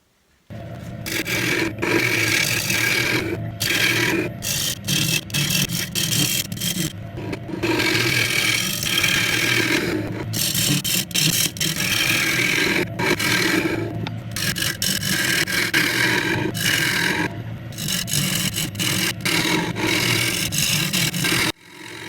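A gouge hollows out a wooden yarn bowl spinning on a lathe, giving a continuous close scraping and rasping cut in repeated passes. The cut pauses briefly now and then over the steady hum of the machine.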